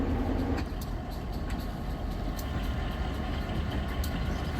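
A model railroad GP9 diesel locomotive rumbles steadily, idling or moving slowly, with a constant throbbing drone and no talking.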